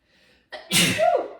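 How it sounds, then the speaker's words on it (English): A single close sneeze with a short sharp intake of breath before it, then a loud explosive burst trailing into a brief airy tail. "I'm about to sneeze, I can feel it."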